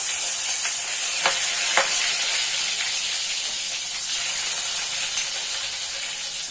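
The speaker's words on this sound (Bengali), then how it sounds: "এবার ওই তেলের মধ্যেই আমি তেজপাতা আর গোটা গরম মশলাটা ফোড়ন দিয়ে দেবো।" Bay leaves and whole garam masala sizzle in hot oil, a loud steady hiss and crackle close up, with a few faint stirring taps and no talk.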